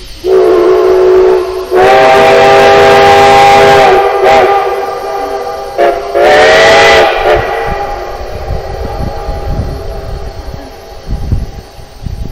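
Cumbres and Toltec steam locomotive 484 sounds its whistle loud and close: two long blasts, then short toots, followed by a steady hiss of escaping steam.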